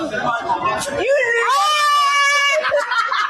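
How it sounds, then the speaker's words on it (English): A girl gives a loud, sustained high-pitched scream in a gym, rising out of laughter and excited voices and then breaking back into chatter. "See how she starts screaming?"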